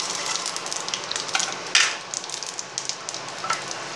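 Mustard seeds, urad dal and chana dal crackle and sizzle in hot oil, a steady frying hiss with scattered sharp pops and one louder burst of spattering.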